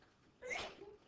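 A single short sneeze bursts out in a classroom, close and brief, against a quiet room background.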